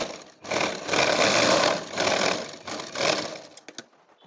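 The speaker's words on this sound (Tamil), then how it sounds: "இப்போ உள்ளுக்குள்ளே ஒரு தையல் போட்டுடலாம்." A sewing machine stitches an inner seam on a blouse in several short runs, each a fast whirring rattle lasting about a second with brief pauses between, ending in a few quick stutters.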